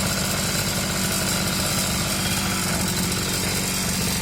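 Sadko GTR 2200 petrol brush cutter running with a newly replaced carburetor, a loud, steady, buzzing two-stroke drone close by, unbroken for the whole stretch.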